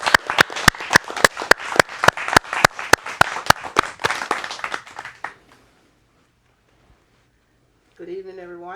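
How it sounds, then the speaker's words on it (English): Applause at a Rotary Youth community event rings out as rapid, steady hand claps from a gathered audience for about five seconds, then fades to near silence before a voice begins speaking. "can we all please give a warm round of applause to our very own Miss the Elizabeth Jackson"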